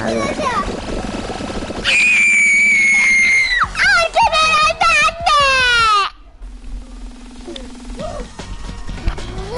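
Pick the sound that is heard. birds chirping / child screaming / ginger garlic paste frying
child screaming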